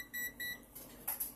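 A pair of short high electronic beeps from a Spacemaker XL microwave, then faint clicks and a brief noisy burst, all close and fairly quiet.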